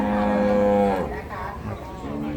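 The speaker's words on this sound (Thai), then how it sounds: "วัวผอมนะครับ" Cattle moo at a Thai livestock market, a long, loud, sustained low call near the recorder, with market chatter and voices continuing underneath afterward.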